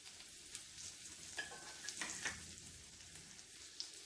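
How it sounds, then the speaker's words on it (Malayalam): Large chunks of garlic frying in butter for a sweet corn chicken soup: a soft, steady sizzle with a few light stirring clinks and scrapes, quiet and close, no voices. "ഇതിലേക്ക് വലിയ കഷ്ണങ്ങളായിട്ട് മുറിച്ചെടുത്ത ഗാർലിക് ഇട്ട് കൊടുക്കുകയാണ്."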